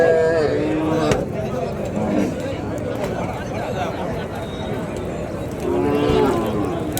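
Native cattle calves and cows low repeatedly in a rural farm setting in Madhapalli, with several moos rising over a busy background of voices and ambient noise, loudest near the start and again around the end.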